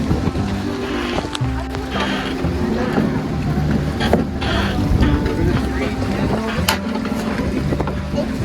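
Boat ride on the water at the Forks, with a steady broad rumble of the boat and wind noise running throughout, fairly loud and close, with people talking intermittently over it.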